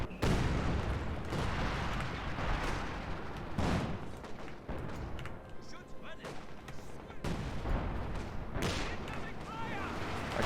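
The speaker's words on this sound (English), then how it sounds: "Artillery's kind of coming into the sector." Artillery fire in Company of Heroes 2 during a 4v4 battle on Essen Steelworks, with repeated booming blasts and gunfire bursts, some loud and close and others more distant, under intermittent talk.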